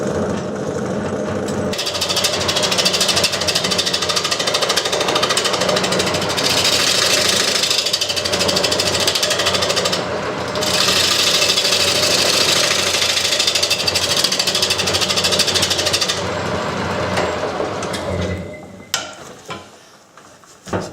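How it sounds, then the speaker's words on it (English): A heavy-duty scraper cuts wood spinning on a lathe while an off-center flying saucer bowl is turned, making a loud, continuous rumbling scrape that runs for about eighteen seconds before dropping away to quiet. "I went to this heavy-duty scraper, and it seems to work a lot better"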